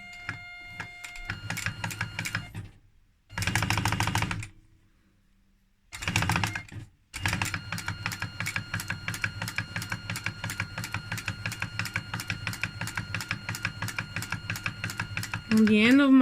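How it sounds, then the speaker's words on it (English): Sewing machine stitching a dart in leather without reinforcement, rapid even needle clatter in several close bursts separated by pauses, then a long continuous run; a brief voice enters at the very end. "my needle, and I'm gonna start stitching without reinforcement"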